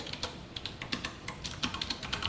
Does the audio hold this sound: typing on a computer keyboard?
yes